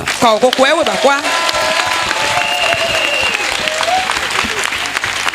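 A church congregation at a regional convention bursts into loud, dense applause and cheering, voices calling out over the clapping, close and sustained throughout.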